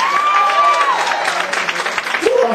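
Broadband clapping and cheering from a crowd, steady and fairly loud throughout, with a brief sustained musical tone near the start.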